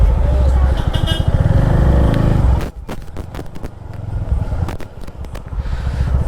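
A motorcycle engine runs loud and close for a few seconds, with a rough low rumble that then drops away to lighter mechanical clatter and scraping; voices talk nearby.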